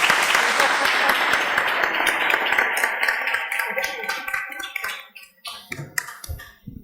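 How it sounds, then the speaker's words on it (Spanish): An audience at an arbitration conference applauds a panel, a dense burst of clapping that thins out into scattered claps and fades within several seconds. "Un aplauso para ellos."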